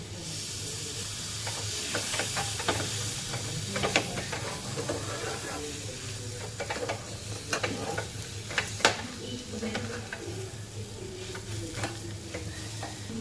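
Gram flour stuffing mix for stuffed capsicum being sautéed in oil in a pan, a steady soft sizzle with repeated scraping and stirring clicks from a spoon, close and moderate in level, with no talking.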